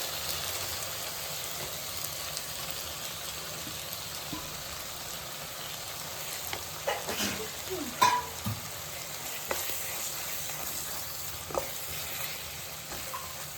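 Chicken pieces frying in hot oil in a pan for a liver curry, a continuous sizzle with occasional scraping stirs and clinks of the spoon, close by and without talk.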